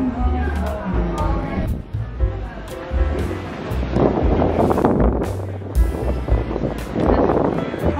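Strong, cold wind blows at the Monument to the Discoveries in Lisbon, a gusty roar mixed with waterside noise and bursts of microphone buffeting, with voices at moments.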